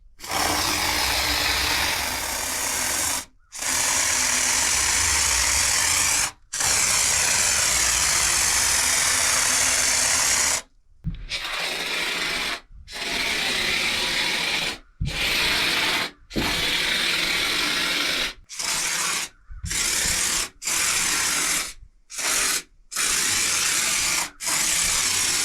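A DIY spray foam insulation kit sprays foam onto a wall in loud, steady hissing bursts of several seconds each, separated by short pauses as the trigger is released.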